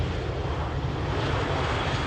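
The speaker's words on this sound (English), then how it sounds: "That was the first plane." A big airplane passing close overhead, a loud continuous broadband engine roar filling the whole moment without any voices.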